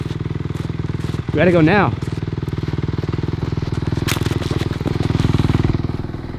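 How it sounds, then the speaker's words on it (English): Close dirt bike engine runs at a steady, pulsing idle throughout, loud and continuous, while someone shouts over it. "Why is your bike running?"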